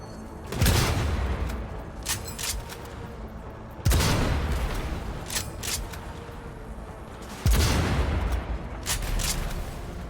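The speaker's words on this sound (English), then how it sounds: "We're taking fire!" Gunfire rattles through a firefight in Cyberpunk 2077, with three sharp heavy blasts spaced a few seconds apart, each trailing into crackling bursts and echoing debris.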